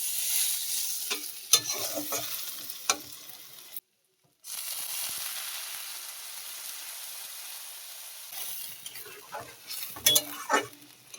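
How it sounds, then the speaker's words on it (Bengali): Taro frying with chili and turmeric while being stirred in a pan gives a steady close sizzle with scraping strokes, broken by a brief silent gap before the sizzle resumes and the stirring clatters more toward the end. "লঙ্কা হলুদটা দিয়ে ভালো করে আমি ভেজে নেব কচুটা"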